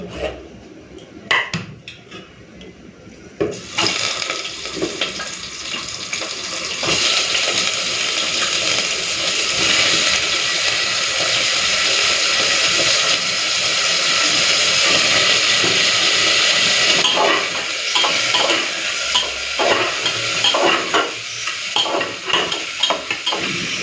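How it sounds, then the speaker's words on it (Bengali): Chicken hits hot oil with whole garam masala, and after a few clattering knocks the pan breaks into a loud, sustained sizzle, mixed with stirring scrapes, that stays close and strong throughout. "তো এদিকে তেলটা গরম করে নিয়েছি, আর দিয়ে দিচ্ছি কয়েকটা গোটা গরম মশলা। এখন দিয়ে দেবো চিকেন।"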